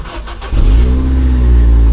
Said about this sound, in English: Blow on the exhaust, I can hear that straight away, but it sounded alright.